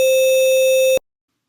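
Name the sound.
sine wave quantized to 2 bits with harmonic distortion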